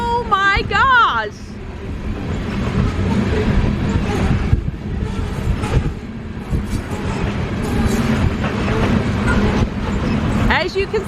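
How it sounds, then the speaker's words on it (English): A train rumbles past nearby in Lohman, Montana, its steady low roar continuing throughout, with a brief warbling horn-like tone at the start and a person speaking over it. "Train! Oh my gosh!"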